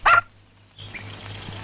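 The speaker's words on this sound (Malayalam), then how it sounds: "ഒരു പന്ന പട്ടി പെറ്റി കിടക്കുക" A single loud, sharp bark from a dog, a mother lying with her newborn pups, rings out at the start, followed by a moment of silence and then low background ambience.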